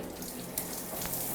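Water from a handheld shower spray running into a bathtub, a steady hissing splash that stays even and close throughout, with no one talking.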